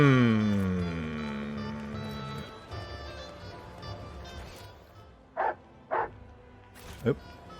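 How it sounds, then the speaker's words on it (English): A dog in Warhammer 40k: Rogue Trader lets out a few short, sharp barks and yips, mixed with other game sounds and a voice talking. "You're barking at that lift over yonder?"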